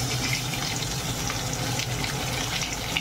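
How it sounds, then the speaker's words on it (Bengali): Eggs frying in oil in a wok, rubbed with salt, turmeric and chilli powder, make a loud, even hiss that holds steady from start to end, heard close up with no talking. "নুন হলুদ আর লঙ্কার গুঁড়ো দিয়ে মেখে ভেজে নিচ্ছি।"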